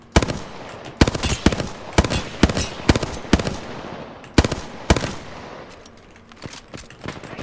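Rapid bursts of gunfire in a video game space combat arena, loud and close, with sharp cracks in quick clusters and short pauses between them, tapering off toward the end.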